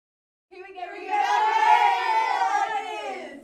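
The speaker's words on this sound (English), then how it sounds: "The mighty Munford Lion cheerleaders, they were cheering hard for their team tonight" Munford Lions high school cheerleaders chanting and cheering at a night football game, a sustained group of young voices yelling together in rhythm after a brief silence, fairly near and loud.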